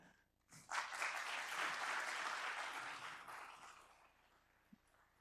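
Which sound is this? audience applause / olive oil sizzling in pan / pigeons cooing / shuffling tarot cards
audience applause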